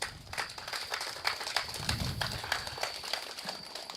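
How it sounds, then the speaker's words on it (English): Scattered outdoor clapping from a modest crowd at a highway upgrading inauguration ceremony, fairly faint and uneven, with distinct individual claps. "Please give yourselves a round of applause."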